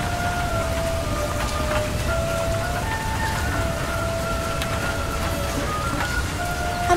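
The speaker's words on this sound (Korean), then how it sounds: "공연 시작 몇 분 전 갑자기 비가 내리기 시작합니다." Sudden rain pours down at an outdoor festival performance site in Wonju, South Korea. It makes a steady, dense hiss with no pauses, and a faint tonal hum carries through it.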